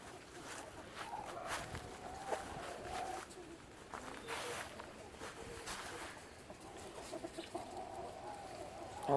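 Backyard chickens cluck and murmur at low volume on a windy day, with soft footsteps and rustling mixed in and no talking.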